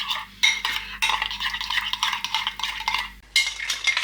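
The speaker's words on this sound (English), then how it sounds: "So you just want to give it a nice mix." A tomato-based chicken marinade being mixed in a bowl, a steady close wet stirring with clinks of utensil against the dish, continuous with a brief pause near the end.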